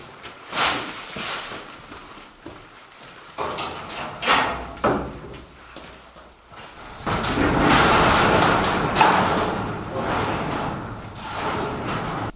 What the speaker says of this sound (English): Let me get the doors open so we can get more light in here